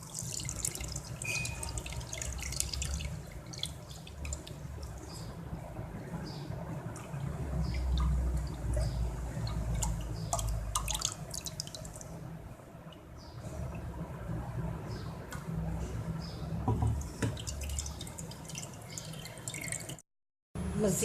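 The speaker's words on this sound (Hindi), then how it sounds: "अब हम शरबत को छानते हैं" Peach sharbat is strained through a strainer in a home kitchen, liquid trickling and dripping steadily for a long stretch with some clinking and a brief silent gap near the end.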